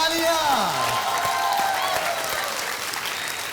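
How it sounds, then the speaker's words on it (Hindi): Studio audience on a televised game show bursts into loud, dense applause that gradually tapers, with a brief swooping musical sting at the start. "तालियां।"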